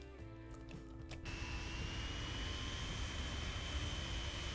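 An airplane with a yellow stripe down its side in the transport simulation game Transport Fever, a steady jet-like engine roar building and holding continuously, fairly close, with no talking over it.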